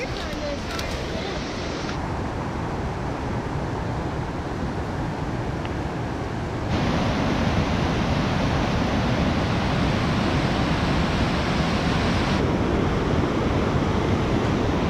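Mountain creek draining Clear Lake in the Wind River Range, a continuous broadband rush of flowing water, close and loud, getting louder partway through.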